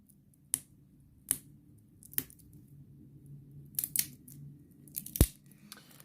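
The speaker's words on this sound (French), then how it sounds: "Alors bon, commençons par ouvrir ce paquet." A wrapped pack of cards from the board game Lords of Vaala is opened, with sharp close snaps and tearing of plastic wrap at irregular intervals and quieter crinkling in between.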